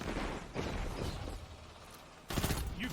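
Blast Furnace pulse rifle from Destiny firing in the game, with bursts of shots at the start and again near the end, separated by a lull of softer background noise.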